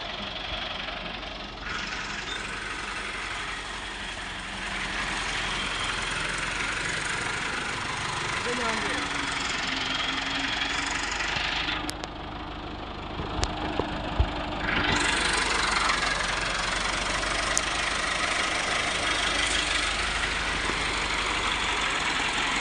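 A tractor engine idles in a steady low diesel rumble for the whole stretch, with a few clicks and knocks partway through and people talking near it.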